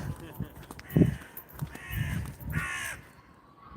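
A crow caws several times outdoors, harsh calls rising over background noise and a person's nearby voice.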